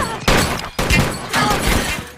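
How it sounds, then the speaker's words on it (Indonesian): An action film shootout produces dense, loud bursts of gunfire in about three heavy waves, with overlapping blasts and a crashing, chaotic texture. Nobody speaks. "aksi tembak-menembak di antara keduanya pun terjadi"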